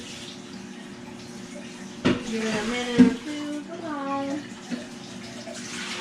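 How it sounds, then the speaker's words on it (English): Water runs steadily from a kitchen tap while warming up for bread dough, a soft continuous rush with a few knocks and clatters, as a person talks briefly over it. "and I just turn the tap on"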